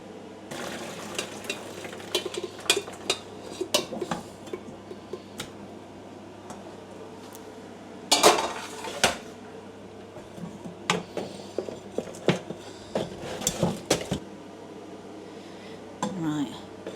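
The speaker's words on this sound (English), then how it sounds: "So I'm going to put these in the colander now." Boiled potatoes tumble from a pot into a colander with irregular clattering knocks, splashes and water pouring, loud sharp bursts scattered across a steady low hum.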